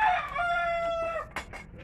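A rooster's crow rings out near and loud in a backyard, tapering into a few short clucks at the end.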